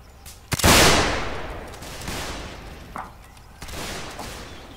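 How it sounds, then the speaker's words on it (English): Musket volley in Mount and Blade Warband, a loud burst of overlapping gunfire with a long rolling tail, followed by scattered fainter shots in a line battle with cavalry firing from a building. "The cavalry will fire from the building now"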